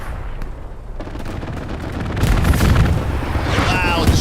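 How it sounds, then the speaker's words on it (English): Strafing run gunfire in the Hell Let Loose video game: a dense, loud roar of rapid shots and booms that swells midway and keeps rumbling to the end. "Wow, the strafing run."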